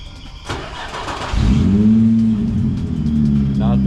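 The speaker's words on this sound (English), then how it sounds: "You have to start it up with no muff, just to see that VQ noise." A Nissan VQ V6 fitted with an Apexi N1 exhaust fires up with no muffler, a starter whir giving way to a loud, steady low rumble that settles into idle, with brief voices talking over it.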